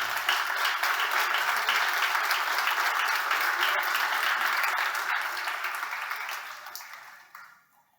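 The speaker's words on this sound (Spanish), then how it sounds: "Denle un aplauso al Señor." A church congregation applauds together in a long, steady wash of clapping at a sermon, holding strong for several seconds before tapering off near the end.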